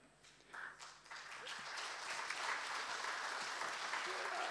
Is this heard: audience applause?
yes